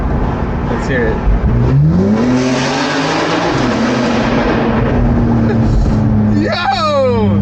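A BMW G82 M4 with the S58 engine and catless downpipes revs hard, its deep exhaust rising in pitch, holding, then dropping before another sharp rev near the end, loud and close, with people talking over it.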